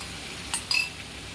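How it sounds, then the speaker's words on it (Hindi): A spoon stirs a spice mixture in a pan while cooking a veg thali, making two short, bright metallic clinks and scrapes against a quiet background. "इसे चारों तरफ ऐसे मैं पहले चला देती हूँ"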